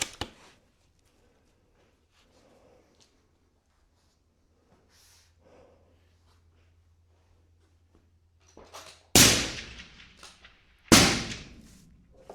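A rifle fired at a steel gong 700 metres away on an outdoor range gives two sharp, loud reports close together near the end, after a long stretch of near silence with faint low hum.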